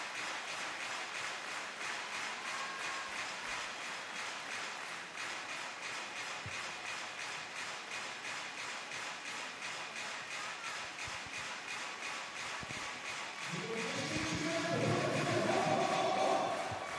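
An indoor arena crowd at a women's EuroVolley volleyball match between Austria and Serbia roars steadily with rhythmic clapping and pounding, swelling louder near the end as the fans turn on the officials.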